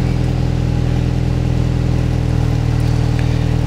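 Steady revving of a car engine through a Fujitsubo aftermarket muffler fitted in place of an Invidia R400, a loud, continuous mid-pitched exhaust drone held close throughout with no talking.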